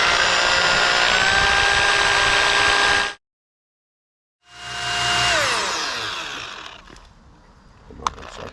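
Electric drill-style mixer stirring Part B hardener into gunmetal metallic epoxy for a garage floor, a steady loud whirring that cuts out into silence, then restarts and winds down, with a brief knock near the end.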